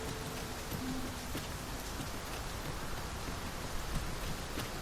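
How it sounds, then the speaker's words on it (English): Rain pours down steadily in the video game Dragon's Dogma, a dense close hiss of heavy rainfall on surfaces with faint scattered drips. "Tis really coming down. We can push through a bit of rain"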